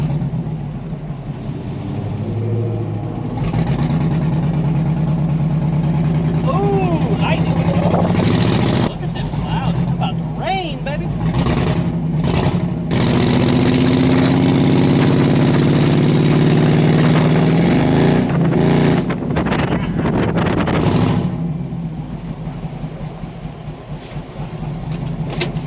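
A 1957 Chevy rat rod engine runs loud and close as the car drives, its rumble rising and falling with throttle changes, with people talking over it at times.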